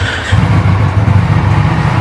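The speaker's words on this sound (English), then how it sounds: "First startup. 2023 Ducati Panigale V4S." A 2023 Ducati Panigale V4S motorcycle fires up for its first start, a loud, steady low engine rumble that settles into idle right after a brief moment of near quiet.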